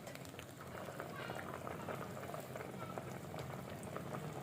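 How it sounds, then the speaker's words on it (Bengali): A pot of rice simmers on the stove with a soft, continuous bubbling and gurgling that is faint and close, and it runs steadily without pause. "এখানে এই পাতিলেই একটু ভাত রান্না হচ্ছে"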